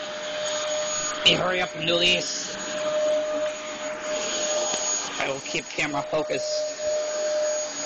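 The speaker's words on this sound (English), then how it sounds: "Sorry for the vacuum noise, can't really help that." A vacuum cleaner runs steadily through a room while vacuuming, a constant whining drone with a sharp tonal hum, as a person talks over it intermittently.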